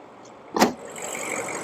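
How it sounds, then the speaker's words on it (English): Hood release on a 2024 BMW X7 M60i, a single short thunk followed by a soft lingering mechanical hiss, near and fairly quiet. "We'll make our way to the front and pop the hood here"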